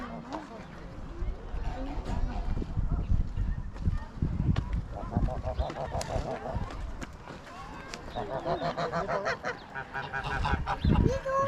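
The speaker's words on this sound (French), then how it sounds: "Ah, ils sont là-bas les canards." Ducks at an animal park give repeated honking calls, some close and loud, in irregular bursts, while people talk nearby.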